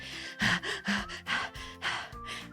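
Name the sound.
panting sound effect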